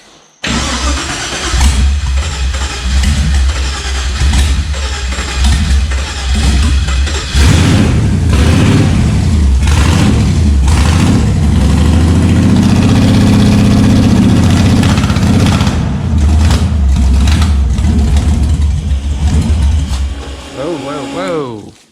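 A car engine in a home car build cranks and runs loudly for about twenty seconds with a heavy, low rumble. The revs rise and fall and voices are heard underneath.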